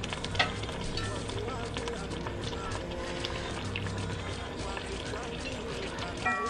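Locust beans hiss and sizzle steadily in hot oil in a home kitchen during meal-prep cooking, a dense continuous frying crackle with occasional stirring clatter.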